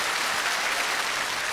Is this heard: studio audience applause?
yes